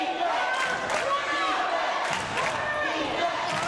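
Crowd cheering in a high school gym during a Norwood vs Summit Country Day girls varsity basketball game, a steady roar of voices and shouts throughout, with commentators talking over it.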